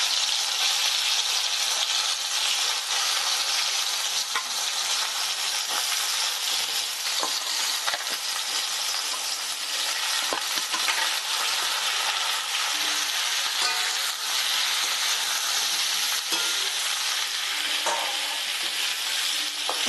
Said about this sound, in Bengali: এবার ওই তেলের মধ্যে আমি ভাপিয়ে রাখা এঁচড়গুলো একটু ভেজে নেব।